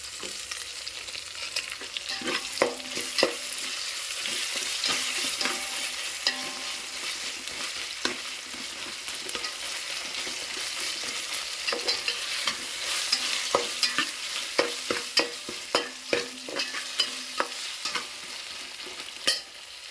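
Ginger garlic paste frying and sizzling in a pan, with steady crackle and repeated sharp scrapes of a spoon stirring throughout, close and moderately loud with no voices.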